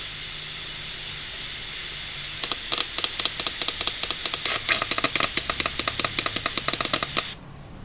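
Close, continuous hiss of cleaner sprayed into the air injector of a 2013 Mercury 250 ProXS outboard, starting a few seconds in and stopping abruptly near the end, overlaid with rapid light tapping clicks.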